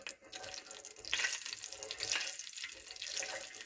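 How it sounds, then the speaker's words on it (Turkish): Spinach with ground pepper sautés quietly in a pan, a faint, soft crackling sizzle with gentle bursts of stirring rising and falling. "Bu ikisini güzelce kavuracağım."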